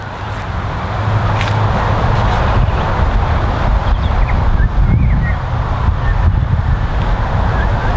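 Strong wind buffeting a microphone on a golf course, a steady loud rumbling roar with gusting swells throughout and no clear talk.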